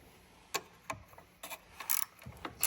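A wrench works on 10mm bolts on a Ferrari F430 seatbelt bracket, producing a handful of faint, close ratcheting clicks and metallic taps at irregular intervals.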